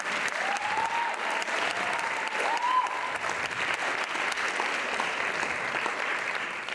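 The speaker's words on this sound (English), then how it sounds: "Give them a big round of applause." Sustained applause from a large audience at an Indian classical dance debut recital fills the space evenly, with a few faint whistles or cheers rising above it.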